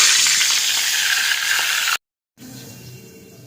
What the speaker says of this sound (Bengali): তেলটা এবার গরম হয়ে গেছে, এবার মাছের মাথাগুলো একটা একটা করে দিয়ে দেবো।